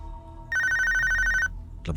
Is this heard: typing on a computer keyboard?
no